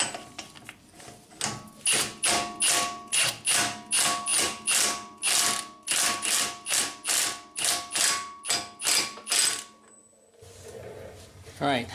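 A ratchet rapidly clicks as a new axle nut is run onto a Honda Accord wheel hub, about twenty close, evenly spaced bursts of sharp pawl ticking, then a brief pause and a clank.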